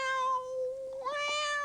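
A person imitates a cat with a single drawn-out meow, clear and close, its pitch dipping and then rising.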